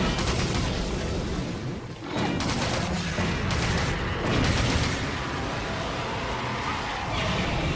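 Bowgun in Monster Hunter 3 Ultimate firing pellet shots, loud spraying blasts in repeated bursts with short gaps, close and booming, with a voice talking over parts of it.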